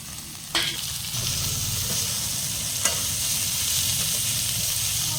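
Tomatoes stirred in a hot pan while making a Maggi noodle dish with legumes, giving a steady sizzle with scraping stir strokes and a couple of sharp utensil knocks against the pan.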